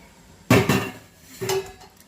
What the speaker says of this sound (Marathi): आपण आता एका बाजूला बर्फ टाकणार आहोत एका बाउलमध्ये